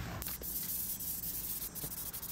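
An aerosol can sprays glue onto the outside of a Triumph Spitfire 1500 soft top, a continuous close hissing spray lasting a couple of seconds with slight wavering pulses and no talk.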